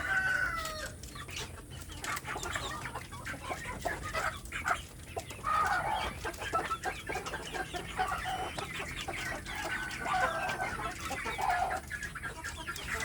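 Village hens cluck in a coop, one waiting its turn at a laying nest while another lays, with soft repeated clucks and calls at moderate distance over a quiet morning farmyard hush.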